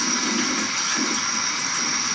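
Peppers being rinsed under a running kitchen tap, a steady broadband rush of water that continues evenly throughout, with no voices over it.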